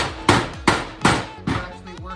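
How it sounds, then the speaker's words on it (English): Sharp metallic hammer blows strike sheet metal being flattened in a car's engine bay, five evenly spaced hits with ringing decay, close and loud, no talking. "so when you hammer it flat"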